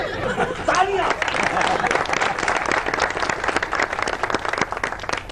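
A studio audience bursts into applause on a satirical talk show, dense clapping that holds steady for several seconds with chatter and a voice over it at the start.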